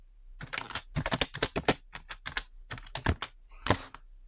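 Steady typing on a computer keyboard, a run of quick, uneven keystrokes at close range that pauses briefly and then resumes, with no voices.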